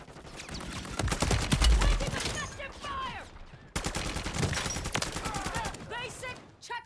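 Rapid bursts of gunfire from Modern Warfare Zombies crackle in quick volleys, pausing briefly midway before resuming, with voices and game effects mixed in.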